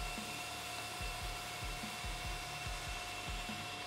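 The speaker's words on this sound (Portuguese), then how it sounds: "A fiação aqui vai na lixadeira de cinta mesmo." Belt sander with 150-grit sandpaper sharpening a knife blade edge, a steady loud motor whine with repeated rhythmic scraping passes of the steel against the belt, close and continuous.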